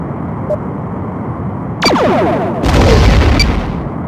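A torpedo launches and strikes in a Star Trek: The Next Generation space combat game, a sharp sweeping electronic discharge followed by a louder, sustained rumbling impact burst, all close and prominent over a steady low engine hum.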